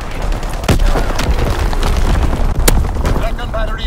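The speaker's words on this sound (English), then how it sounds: "Artillery ready for orders. Awaiting coordinates. Firing for full effect." Artillery strike explosions in Call of Duty: WWII on the Shipment 1944 map, a dense rumbling barrage with two sharp loud booms standing out, close and heavy, under game announcer voice lines.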